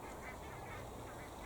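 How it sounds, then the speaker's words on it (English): A dense, continuous chorus of goose honks, many birds calling at once against a steady wash of background noise, sounding moderately distant. "I suddenly heard a lot of geese, and there they are, flying overhead"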